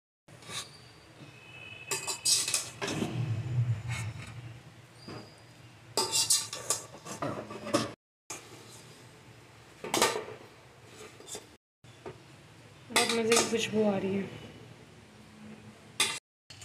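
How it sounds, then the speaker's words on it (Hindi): Biryani being mixed and dished out with a serving spoon for an iftar meal: faint, scattered clinks and scrapes of metal on dishes, broken by short pauses, with a little background voice. "अब बिरयानी को डिश आउट करना है मिक्स करके।"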